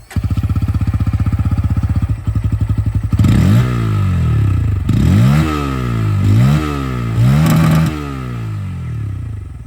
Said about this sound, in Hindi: अब यहाँ पर जो एग्जॉस्ट साउंड है वो भी मैं आप लोग को सुना दूं।